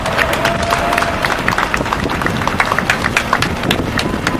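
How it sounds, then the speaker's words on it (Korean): An outdoor election campaign rally crowd applauds to welcome a speaker, with rapid overlapping claps from many people forming a loud, continuous patter. "박수로 모시겠습니다."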